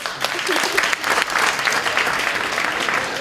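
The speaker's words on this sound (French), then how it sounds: "Applaudissez les célibataires." Audience applause at a French stand-up comedy show, a loud, dense burst of clapping from a packed room lasting a few seconds, with scattered voices mixed in.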